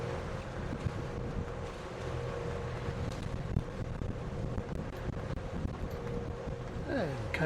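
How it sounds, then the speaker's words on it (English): Steady wind roars across the microphone on a sailing boat at sea in about 15 knots with a choppy swell off Cape Brett, a constant low rushing and buffeting with water and hull noise beneath. "So it's currently blowing, I don't know, 15 knots, bit of a chop."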